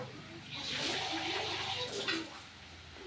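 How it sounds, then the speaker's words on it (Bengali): Water poured into a pot over raw fish pieces, a close, continuous splashing gush lasting a few seconds that swells and then eases. "অল্প একটু জল দেবো এটার মধ্যে আমি, যাতে মাছগুলো পুরো ভিজে যায়"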